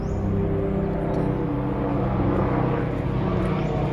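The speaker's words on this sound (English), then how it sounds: "Out there is an airplane or helicopter." A steady, loud rumbling drone of an aircraft passing overhead, droning continuously throughout without a break and with no voices heard.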